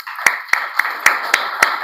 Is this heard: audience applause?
yes